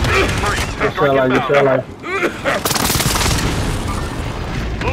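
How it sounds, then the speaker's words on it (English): Airstrike explosions boom amid gunfire in Call of Duty: Modern Warfare, heavy blasts and rattling shots piling up loudly while a voice speaks briefly over the chaos. "Airstrike deployed at my mark."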